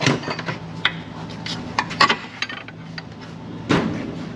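A small metal washer dropping loose from the steering parts of a 2000-2006 Chevrolet Silverado or GMC Sierra GMT 800 5.3, giving several close, bright clinks and metallic taps scattered among tool clatter, with no talking.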